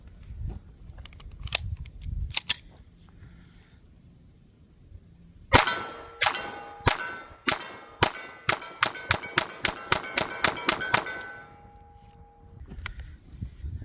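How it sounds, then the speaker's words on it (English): Air gun pellets strike a 16-inch steel gong target set on a hill about 20 yards away, producing a rapid series of sharp metallic clangs with ringing tails, preceded by a few scattered single hits and quieter gaps. "I got my 16-inch gong up there on the hill"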